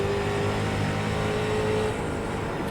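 Street Stock race car in iRacing, its engine droning at high, steady revs down the backstretch of 5 Flags Speedway, loud and continuous with a slight easing of the throttle near the end.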